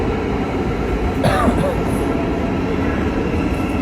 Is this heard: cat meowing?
no